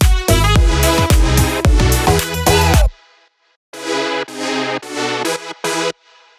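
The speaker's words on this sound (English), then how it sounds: "those retro sounding chords playing those cool 7th chords" Bright retro synth seventh chords play in rhythmic stabs, a loud phrase, a short pause, then a second phrase of chords.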